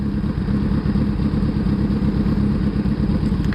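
A motorcycle engine idles steadily and loudly up close, a low throbbing rumble with a faint mechanical clatter, no voices.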